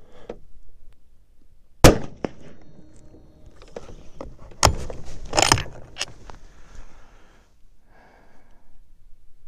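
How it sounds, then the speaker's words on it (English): A T/C Compass .308 rifle fires a single handloaded round, a 168-grain A-Max bullet over Varget powder. One sharp, loud crack is followed by scattered clicks and handling knocks from the rifle and bench. "I'll shoot one, and if it doesn't look safe, we'll stop there."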